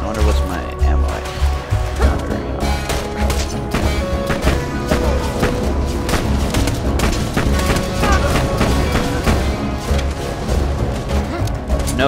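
Rapid gunfire and booms from the video game Borderlands 2 crackle densely and loudly without pause, bursts overlapping with impacts and crashes, with a voice talking over the barrage.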